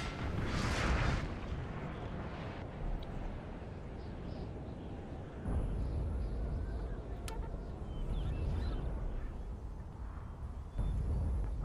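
Artillery cannons in Napoleon: Total War firing during a French and Dutch engagement. Heavy dense rumbling booms, with a sharp report near the middle and another late in the clip, sit under a constant din of battle.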